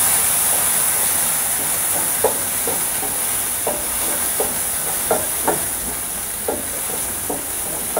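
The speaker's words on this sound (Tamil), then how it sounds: "3 பச்சை மிளகா இதை அப்படியே போட்டு இதே நம்ம வந்து நல்லா வதக்கிப்போம்." Tomato and green chillies sauté in hot oil, making a constant bright sizzle broken by scattered small pops and spits, close and fairly loud with no talking.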